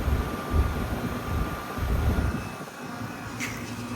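A 2007 1.5-ton Trane XL14i heat pump with a Genteq fan motor runs with a steady low whooshing hum and airflow roar that swells and eases slightly, close by with no talking.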